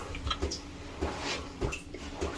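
Water splashes and drips in short repeated bursts while a freshly shaved head is rinsed, close and moderately loud, with a few soft wet knocks between pours.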